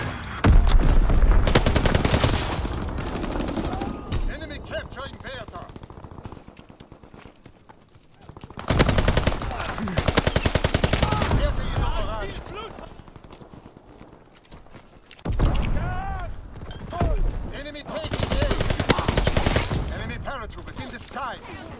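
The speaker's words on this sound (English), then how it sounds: "fighter pilot inbound, strafing the target" A fighter plane strafes a target with machine guns in a video game. Three loud, rapid bursts of gunfire each trail off into a rumbling tail, with quieter gaps between them.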